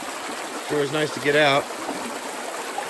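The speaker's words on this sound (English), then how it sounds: "Sure is comforting to hear that sound of a river." A river flows outdoors on a hike, giving a steady, close, broadband rush of water that runs throughout while someone speaks briefly over it.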